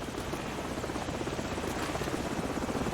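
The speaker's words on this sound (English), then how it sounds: "Hold on, the helicopter's back." Helicopter in the video game Call of Duty 4: Modern Warfare, a continuous fluttering rotor thump with a dense engine whine, steady and fairly faint throughout the short stretch, with no speech.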